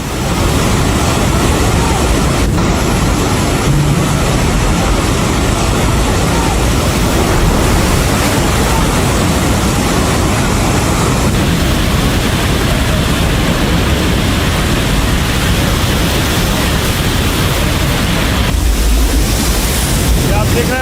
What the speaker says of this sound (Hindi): पानी का बहाव देखिए जरा, इतनी तेज पानी आया है कि खिलौनों की तरह बस पानी में बहती हुई चली गई।